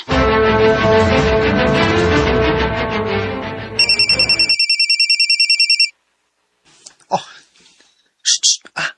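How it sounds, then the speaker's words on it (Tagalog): A phone rings with a melodic ringtone for an incoming call, followed by a brief burst of electronic beeping, then short, softer sounds and a few more chirps. "Si Karen nanawag"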